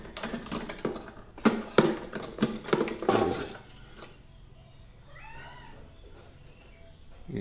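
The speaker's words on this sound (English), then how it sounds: "This cat follows me around everywhere, dude." A cat meows in a few rising, wavering calls near the end, after a stretch of loud clattering and knocking handling noises up close; no purring is clearly evident.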